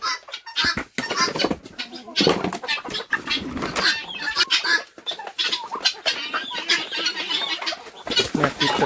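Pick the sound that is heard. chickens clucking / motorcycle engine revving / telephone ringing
chickens clucking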